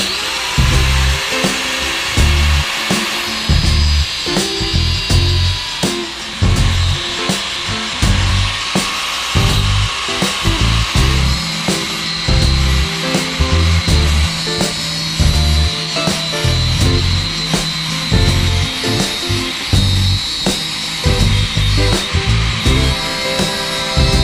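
A power tool grinds and cuts through a metal shaft in a workshop, a loud, close, continuous buzzing whine with rhythmic rises and dips as the cut proceeds.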